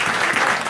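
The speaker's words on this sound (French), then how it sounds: "Si on peut l'applaudir vraiment" A gathered audience breaks into loud, dense clapping for a speaker. The applause is steady and close, filling the whole short moment without a break.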